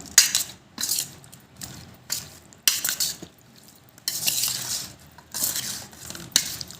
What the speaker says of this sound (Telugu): నెమ్మదిగా కలుపుకోవాలి వంకాయ బాగా ఇట్లా కలుపుతున్నాము